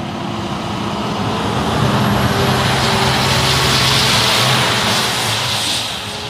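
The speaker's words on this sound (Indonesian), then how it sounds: "Ada mobil truk kontainer panjang," A toy long container truck gives off a steady, loud rumbling engine drone, broad and continuous like road traffic, holding even for the whole stretch.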